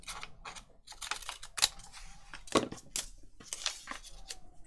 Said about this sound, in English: Yeah, I'm going to cut that off about there.